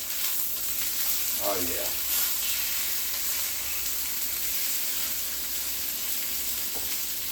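Chicken pieces fry in a pan for chicken Francese, giving a steady, soft sizzle throughout while a voice briefly speaks.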